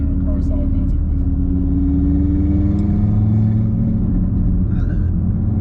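Audi RS3 engine droning while driving, a steady low rumble with a sustained tone that shifts slightly in pitch, close and fairly loud throughout, with talking in the car over it.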